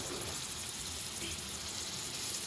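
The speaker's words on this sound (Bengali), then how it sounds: "পেঁয়াজুটা ভাজবো আগে।" Piyaju onion fritters frying in a pan, a steady dense hiss of hot oil sizzling close by with no pauses, fairly quiet and even throughout.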